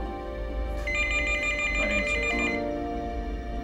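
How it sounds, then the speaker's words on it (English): A telephone rings with steady electronic tones over a low background hum, one continuous ring lasting a few seconds with no talk. "But at that instant, the phone rang."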